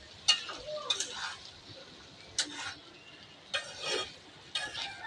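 Chickpeas cooking in a pot are stirred with a utensil, making several separate bursts of scraping and clinking against the metal, with quiet gaps between them and a faint sizzle underneath.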